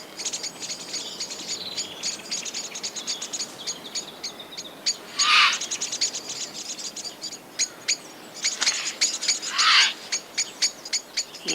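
Blackbirds mob an intruder in a palace garden, giving rapid, repeated sharp chirping alarm calls. Several louder bursts stand out over a steady chatter of calls that fills the whole stretch.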